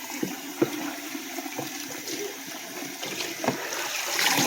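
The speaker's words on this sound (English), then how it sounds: "We're gonna wash this in the cold water." Cold tap water runs over broccoli in a kitchen, giving a steady faint splashing hiss with small irregular clatters and drips. No voices are heard.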